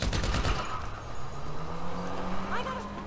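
Gunfire in GTA Online, a burst of rapid shots at the start over engine noise, then a lingering vehicle hum with scattered mechanical sounds, while someone talks over it.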